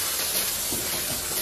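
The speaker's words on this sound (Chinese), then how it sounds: "把丸子下锅" Fried meatballs tipped into a hot wok to be braised in a soy-coloured sauce, giving a loud, continuous hissing sizzle with no pauses and no voices.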